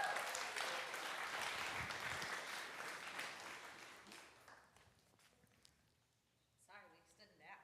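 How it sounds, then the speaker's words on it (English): A crowd claps for teachers being welcomed onstage, with dense applause for about four seconds that thins out. A voice speaks near the end. "Can we give them a round of applause?"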